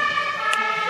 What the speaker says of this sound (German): Diese Rettungswagen kommt auch gleich, das hab ich schon gehört davon.